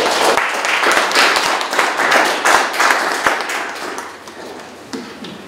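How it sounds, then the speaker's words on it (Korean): Clapping from a seated audience opening a seminar, a dense patter of applause that is fairly close and loud at first, then thins and tapers off. "큰 박수로 자리해 보시겠습니다."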